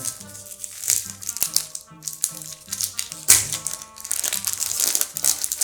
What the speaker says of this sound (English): let's open up some of these cards